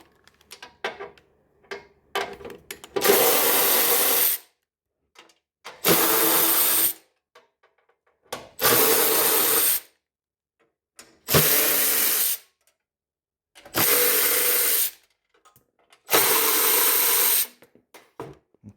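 A power tool whirs in six short, evenly spaced bursts while unscrewing bolts from a Toyota Prius 30 hybrid battery pack, close and loud, with quiet handling noises in the gaps between bursts.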